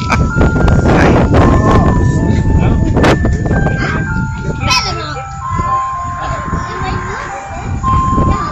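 An ice cream truck in Cranston, Rhode Island plays Christmas music as a loud, clear electronic chime melody, with nearby voices and chatter under it.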